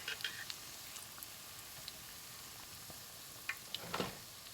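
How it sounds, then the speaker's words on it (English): Sour cream donuts frying in hot oil give a faint, steady sizzle with scattered small pops and crackles, heard alone at low level. "That's frying."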